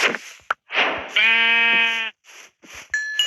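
A Minecraft sheep lets out one clear, sustained bleat at close range amid game sound effects, with short bursts of other in-game noise before and a brief tone after.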